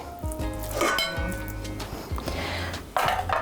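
A bowl is handled in a home kitchen while Crimean Tatar sarma is being prepared, with soft clinks and knocks of crockery and a brighter clatter near the end, close and moderately quiet.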